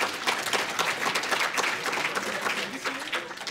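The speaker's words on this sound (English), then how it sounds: "come on, let's get an applause" A conference crowd at the Reagan Ranch gives dense, sustained applause, with voices talking over the clapping.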